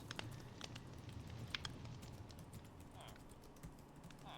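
Soft, quiet computer keyboard typing in scattered taps and short runs, close and gentle, over a faint steady background hum.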